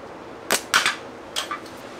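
Slingshot shots hit a post outdoors: a sharp crack, then another crack with a short rattle, and after a pause two lighter knocks. The impacts are close and dry against a quiet background.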